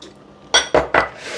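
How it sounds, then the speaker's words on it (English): Carrots are dropped into a simmering pot of broccoli cheddar soup, giving three quick, close, clattering knocks against the pot in a steady row, with no talking. "now what we want to do, we want to add in our carrots"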